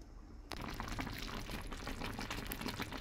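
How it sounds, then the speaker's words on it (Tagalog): A kinalakol coconut milk mixture bubbles at a rolling boil in a pot, a steady close seething hiss that swells suddenly after a moment and then continues unbroken. "Ayan, kumulo na. Ang bilis, ano, diba? Ang bilis kumulo yung kinakul natin."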